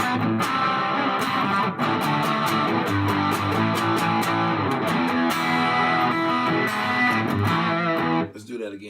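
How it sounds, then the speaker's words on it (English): An electric guitar played through a Trinity distortion pedal, dense saturated chords ringing out with rhythmic strums, loud and close, stopping abruptly near the end. "it's just a normal, cooler distortion pedal, very sleek"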